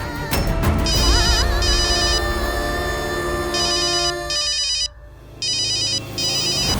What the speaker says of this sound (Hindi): बाबा साहब, कुमुद, दरोगा का फोन है, रुको।